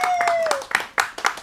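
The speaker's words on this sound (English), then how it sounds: "Everyone applaud for the nephews" A short burst of scattered hand clapping from a small group, a few sharp claps standing out near the end, with a steady tone fading underneath at first.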